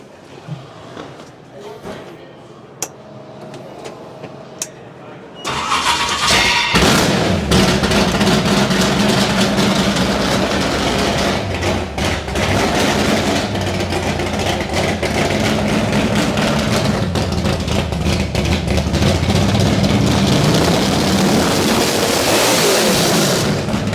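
A 700-horsepower 427 Tunnel Wedge engine in a Mustang drag car cranks and fires up after a few quiet seconds of clicks and handling, then holds a loud, rough, lopey roar with repeated throttle blips and revs for the rest of the clip.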